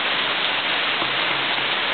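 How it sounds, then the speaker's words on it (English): Rain falls steadily during a storm, a dense, even hiss of drops on surfaces with no pauses, fairly close and alone. "It's storming."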